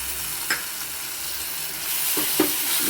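Tomato pulp and ginger-garlic paste sizzle steadily in a pan for a prawn and egg curry, a spoon scraping and stirring briefly near the start and again twice toward the end, with the frying hiss swelling slightly.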